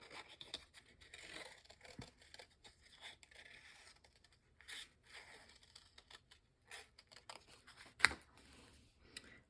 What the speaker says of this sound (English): I'm going to take my scissors and I'm going to do some fussy cutting around this